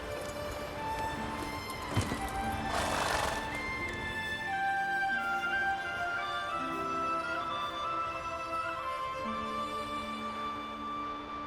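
Roach, a horse in The Witcher 3, trots with rhythmic clip-clop hoofbeats on the ground, with a brief burst of heavier noise early on and ambient game sounds and music continuing around it.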